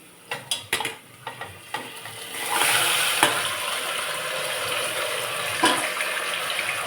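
Marinated mutton, half a kilo, is stirred with fried onions in a pot over a medium flame: several sharp metal clanks, then a continuous hissing, watery rush with one more clatter partway through.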